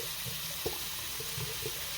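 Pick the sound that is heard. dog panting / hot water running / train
hot water running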